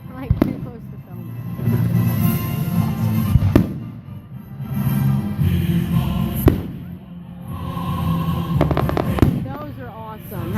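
A fireworks display at the 2017 Simpsonville show, with loud nearby bangs and crackling bursts spaced a few seconds apart over a steady crowd rumble, and voices talking throughout.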